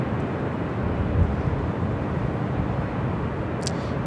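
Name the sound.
heavy jet airliner taking off at LAX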